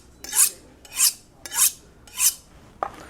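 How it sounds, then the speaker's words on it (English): Kitchen knife edge drawn along a honing steel, four evenly spaced bright swishing strokes, close and clear, followed by a fainter fifth scrape. "So I'm just gonna put a little edge on this knife real quick."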